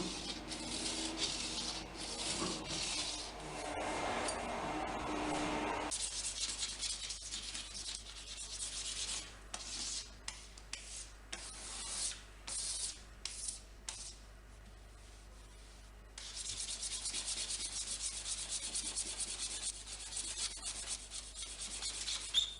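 A razor blade scrapes yacht varnish from an oak worktop in steady, raspy strokes, dense and continuous at first, then turning into a run of short, separate scrapes before a smoother stretch of rubbing returns.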